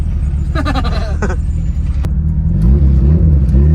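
A turbocharged Honda Integra with a Spoon N1 exhaust revs loudly and close by, its deep engine drone climbing into a rising rev near the end, with a voice heard briefly over it.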